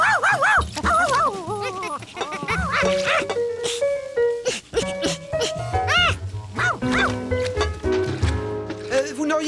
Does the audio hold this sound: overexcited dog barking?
yes